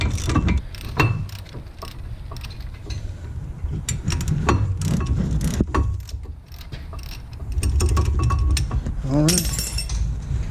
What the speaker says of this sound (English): Oh yeah, probably need a socket ratchet.